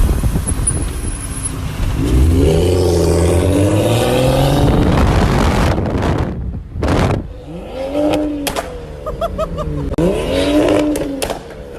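A wide-body BMW 135i revs its engine hard, rising and falling through repeated climbing sweeps, then sharp throttle blips with cutoffs and pops, loud and close.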